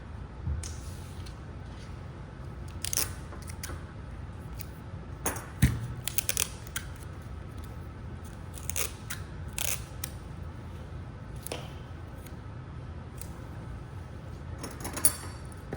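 Scissors cutting dress fabric for a princess-line flared dress, heard as scattered close snips and sharp clicks of the blades with quiet pauses between cuts.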